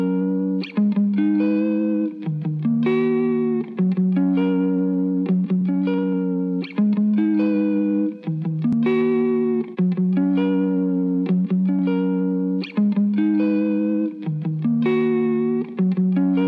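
Music processed through the iZotope Vinyl lo-fi plugin's pitch warp effect, giving a steady, loud tonal passage with slow wavering pitch throughout and no voices.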